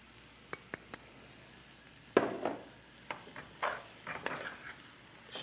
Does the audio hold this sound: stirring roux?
yes